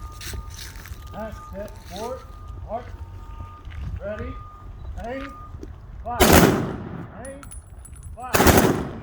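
Honor guard rifle volley at a Wreaths Across America ceremony, sharp loud gunshot cracks ringing out outdoors, with commands spoken between them and a steady background of low outdoor noise.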